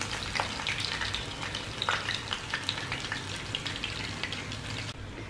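Hot frying oil left from pan-fried scad is spooned from the pan into a bowl, giving a steady close sizzling hiss with light scraping clinks, no voices.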